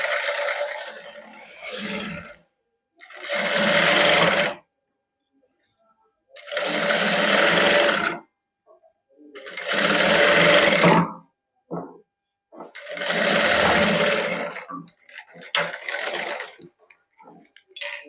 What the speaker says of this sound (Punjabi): ਹੁਣ ਆਪਾਂ ਇਹਨੂੰ ਗਿਠਾ ਨੂੰ ਮੋੜ ਕੇ ਇਹਦੇ ਉੱਪਰ ਲਾ ਦਾਂਗੇ ਸਲਾਈ